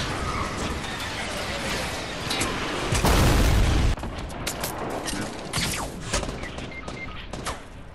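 Video game gunfire and explosions burst in dense, loud volleys, with one heavy sustained blast in the middle followed by scattered shots and pops, while players talk faintly underneath.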